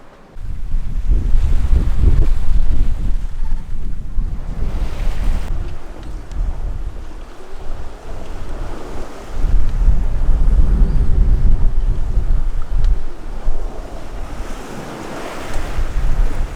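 Wind roars across the microphone as waves surge and wash around a sailing boat rolling at night on the Atlantic Ocean, with a steady, rolling rush of water throughout.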